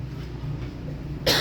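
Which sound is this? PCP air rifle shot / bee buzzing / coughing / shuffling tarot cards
coughing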